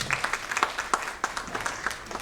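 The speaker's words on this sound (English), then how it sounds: "One applause for them." Audience applause for a team during an immigration attorney's presentation, a steady patter of many hands clapping at moderate volume in a hall.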